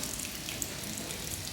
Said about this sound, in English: I am adding some water down here to the bottom